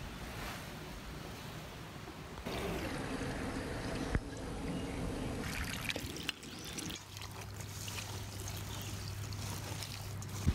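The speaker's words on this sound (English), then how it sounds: "Wash and drain your berries." Water runs and pours over hawthorn berries being washed and drained in a sieve, a steady rushing splash that shifts partway through into a softer trickle.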